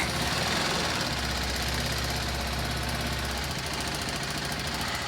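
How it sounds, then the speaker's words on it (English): A BMW G310 motorcycle engine idles loud and close in a garage, a steady rough thrum with a knocking pulse that holds for several seconds before settling. "Let's go ahead and fire up the bike."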